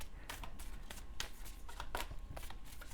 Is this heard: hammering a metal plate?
no